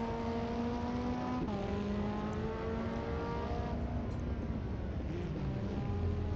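A race car engine in a VR racing sim roars steadily through a night race with headlights on a Brazilian circuit. The pitch climbs and drops sharply at gear shifts, loud and close, with no talking.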